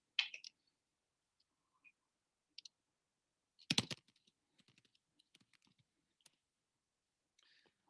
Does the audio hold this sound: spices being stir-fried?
no